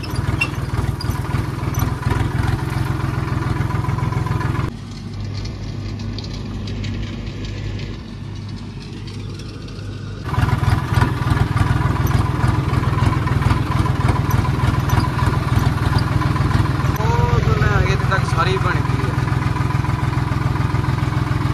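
A tractor engine runs at a steady idle for about twenty seconds, a loud low drone that dips briefly in the middle and then returns at full strength, with no voices over it.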